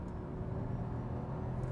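A car's TSI petrol engine hums with a smooth, low steady drone, a faint and brief rumble without any sharp rise in pitch.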